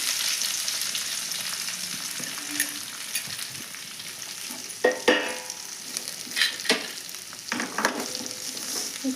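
Cabbage tossed into a pan sizzles steadily, with scraping stirs and a few sharper clatters of a spoon against the pan, close and unaccompanied by speech.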